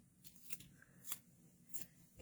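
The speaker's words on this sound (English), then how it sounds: "get my other scissors. I'm just going to take a piece off." Scissors cut a piece of paper for card making in a few separate quiet snips with pauses between them, close by and soft, with no talk.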